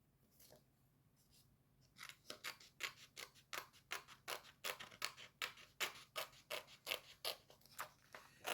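Scissors snipping paper for a scrapbook page, a steady series of sharp, evenly spaced cuts close up after a brief quiet start, with no talking.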